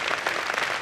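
Children applauding at a school annual day function, a brief burst of dense, bright clapping from many hands.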